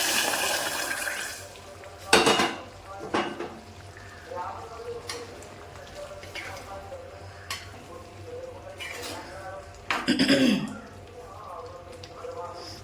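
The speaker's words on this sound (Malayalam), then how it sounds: "ഇതാ ഞാൻ ചൂടുവെള്ളം ഒഴിച്ചു കൊടുക്കുവാണ്" Hot water is poured into a jackfruit seed curry simmering in a pan, giving a couple of short close splashing pours amid soft kitchen clatter, with a voice talking at times.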